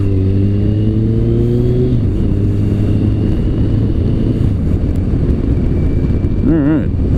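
A high-mileage Kawasaki Concours 14 sport-touring motorcycle, with about 91,000 miles and leaking fork oil, is ridden on the road. Its engine drones steadily and loudly throughout, with a shift in pitch partway through and constant wind rush.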